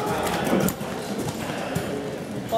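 Horse hooves clip-clop in a steady walking rhythm at moderate distance, mixed with background voices and outdoor noise.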